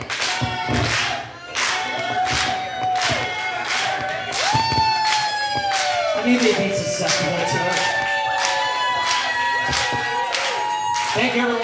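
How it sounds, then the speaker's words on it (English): An audience at a live band show at Gallery 5 in Richmond, Virginia claps in a steady beat, with cheers and shouts rising over ringing musical tones, loud and close throughout. "just clap your hands"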